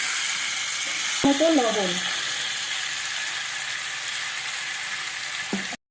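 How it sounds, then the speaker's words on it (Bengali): Fried potatoes and cauliflower sizzle in hot spiced oil, a constant loud frying hiss throughout with a clatter of utensils early on. A voice speaks briefly over it. "এরপরে আমি এখন দিয়ে দেবো যে আলু ফুলকপিগুলো ভেজে রেখেছিলাম, সেই আলু ফুলকপিগুলো।"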